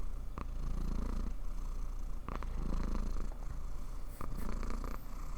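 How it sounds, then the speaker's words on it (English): A pet cat purring up close, a soft steady rumble that rises and falls with each breath, running without interruption and with no voices over it. "Gonna purr."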